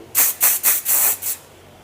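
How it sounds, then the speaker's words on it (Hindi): Hairspray from an aerosol can misted onto hair while styling an occasion hairstyle, five short hissing bursts in quick succession, close and fairly loud, with no talking. "हल्का सा स्प्रे"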